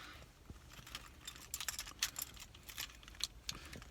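Car keys for a 2020 Honda Accord Hybrid jangle in a quiet interior, giving a scattered series of light metallic clicks and rattles, faint and close, with no talking.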